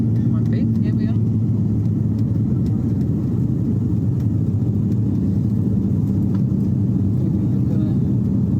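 Steady loud cabin drone of an airliner climbing again for a second landing attempt at Flores airport, continuous engine rumble throughout with people talking over it.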